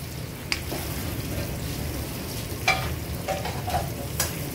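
Chicken pickle is stirred in a frying pan over a steady low sizzle, with a few brief spoon scrapes and clinks against the pan.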